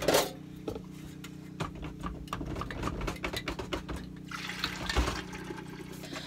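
Milk pours steadily into a metal pot, a continuous gurgling splash with faint clinks, close by and without any talking.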